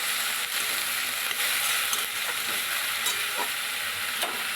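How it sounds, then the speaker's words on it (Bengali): Drumstick flowers cooking into a Bengali chorchori hiss and sizzle in a pan as they are stirred, with faint scraping strokes over a steady, fairly quiet frying sound and no talking. "এইবার নেড়ে নেব।"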